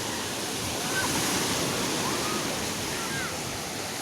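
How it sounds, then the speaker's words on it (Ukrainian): Big sea waves on Lanzheron beach in stormy weather make a constant, dense roar of surf with wind, loud and unbroken throughout. "Сьогодні дуже бурхлива погода, великі хвилі."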